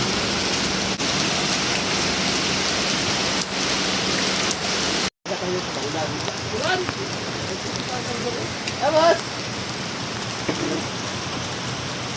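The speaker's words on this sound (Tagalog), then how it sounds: "Malakas ang ulan." Heavy rain falls at the port of Lucena, a loud steady hiss of drops hitting surfaces, briefly cut off midway before resuming with some faint background sounds mixed in.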